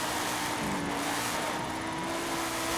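A car engine in Forza Horizon 5 holds high, steady revs through a drift, loud and continuous with a rising whine and no talk over it.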